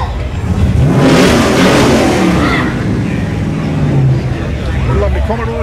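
A supercharged Ford Falcon GT XY at an evening car show revs loudly nearby, the engine rising in a surge and then settling to a rumbling idle beneath crowd chatter and voices.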